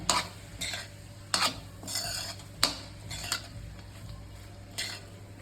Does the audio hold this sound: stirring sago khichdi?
yes